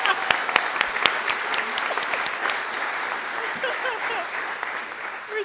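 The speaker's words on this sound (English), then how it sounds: "make me feel good by giving me some good applause" An audience at a community college district Board of Trustees meeting gives a round of applause: sharp, scattered claps ring out over a murmur of voices, thinning and trailing off toward the end.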